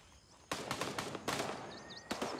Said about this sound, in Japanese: なんか銃声がすごいするんですよね